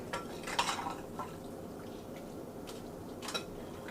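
Mustard being mixed into catfish pieces in a bowl, faint scattered clinks and soft wet stirring taps, a few brief knocks at the start and near the end.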